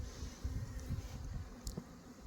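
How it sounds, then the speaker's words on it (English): Honeybees buzzing around an apiary hive, a steady low droning hum at close range with soft rustling and no talk. "Just down here though, these bees are busy."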